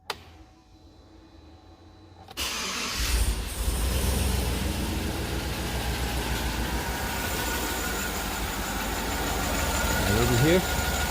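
Chevy Tahoe LS 5.3 V8 with a rocker not moving on cylinder 6 cranks over after a brief quiet stretch, then settles into a loud, steady idle that runs on without a break.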